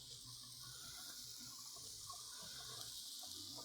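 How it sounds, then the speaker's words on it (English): Tap water runs steadily into a kitchen sink as hands are washed beneath it, a constant, fairly quiet rushing hiss with faint splashing and no talk. "Wash my hands."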